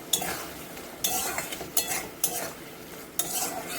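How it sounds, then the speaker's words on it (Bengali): Green chillies and tomato stirred in hot oil in a pan: a sizzling hiss broken by repeated spoon scrapes and clinks, about five distinct strokes, close and fairly loud. "এবার এটা দিয়ে ভালো করে নাড়াবো।"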